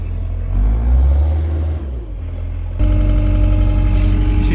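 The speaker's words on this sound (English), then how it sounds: "I'll fire the old skid steer up." A skid steer loader engine runs steadily in cold, snowy conditions, a loud low rumble with harmonic drone that rises and firmer after a few seconds as the machine works, no talking.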